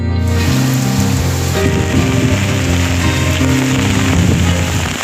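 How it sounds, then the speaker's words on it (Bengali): Strong cyclone wind drives heavy rain in a loud, constant roar, with gusting rumble and rain pattering on surfaces throughout, no voices. "কি পরিমাণে বাতাস হচ্ছে দেখাচ্ছি আপনাদের।"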